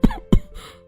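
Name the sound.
man coughing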